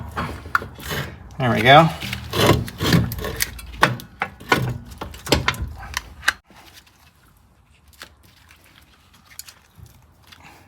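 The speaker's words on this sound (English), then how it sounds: "We can get our axle back in. Go ahead and put our axle in." Axle being worked back into the rear wheel knuckle of a 2003 Toyota Highlander, a series of close metallic knocks, clunks and scrapes over several seconds, with brief talk.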